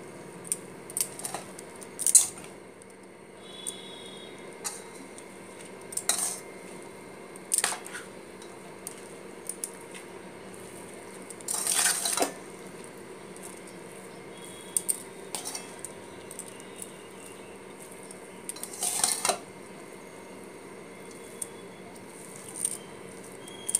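A spoon mixes tamarind rice with green chillies in a bowl, giving soft intermittent scrapes and clinks against the dish with quiet gaps between strokes, close and faint.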